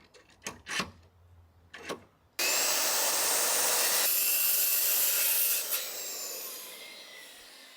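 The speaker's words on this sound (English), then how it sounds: "This is one of my favorite parts when I'm woodworking is just softening the edges." Sanding or rubbing softens the edges of a woodworking piece. After a few brief scrapes and knocks, a loud, broadband abrasive rush runs steadily for about three seconds, then fades slowly. No voices.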